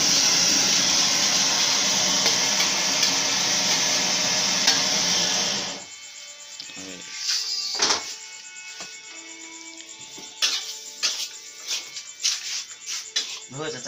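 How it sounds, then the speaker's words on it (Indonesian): Mie goreng fried noodles sizzle steadily in a hot pan at a street food stall for several seconds, then the hiss cuts off and scattered clinks, scrapes and stirring noises follow. "Ini jenis mie goreng sakarepe dhewe lho."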